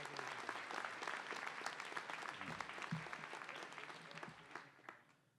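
Steady audience applause for an honorary degree recipient at a 2014 ceremony, a dense continuous clapping from a large crowd that holds for several seconds before tapering off at the end.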